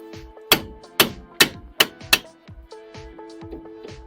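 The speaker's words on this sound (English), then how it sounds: "copper hammer" A copper hammer strikes a stuck drive shaft on a Nissan Micra during clutch work, five sharp metallic blows landing about every half second, then several lighter taps under a faint steady hum.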